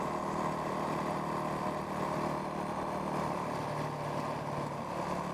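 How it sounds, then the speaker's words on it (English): Yamaha WR450F motorcycle ridden along at a steady pace, a continuous dense engine drone mixed with wind rush throughout. "So I'm riding the WR450F to work today"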